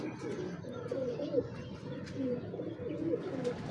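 Soft, low coos of a Madani pigeon repeat in a steady murmuring rhythm, close by, over a constant background rumble.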